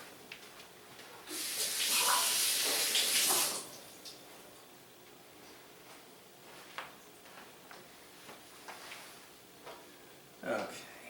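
Tap water gushes for about two seconds as a hand is rinsed clean of spicy red crab sauce in a home kitchen, then cuts off, leaving faint clicks and small knocks.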